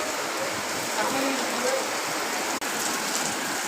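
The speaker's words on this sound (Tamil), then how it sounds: "மழை வந்துடுச்சுங்க" Sudden rain pours onto a rooftop terrace in Chennai, a loud, dense, continuous hiss of heavy drops close by, with a brief dropout near the end.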